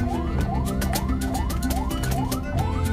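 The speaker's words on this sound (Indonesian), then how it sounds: "Oh, ada lagi ambulans." An ambulance siren wails in repeating rising sweeps, about two per second, loud and steady over the rumble of idling engines in a jammed road near Kappang on the Camba route in Maros.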